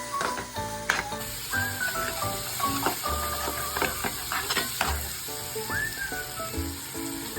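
Turmeric and red chilli powder roast in oil on a tava for a soybean masala, making a soft continuous sizzle and hiss with scraping strokes and light utensil clicks.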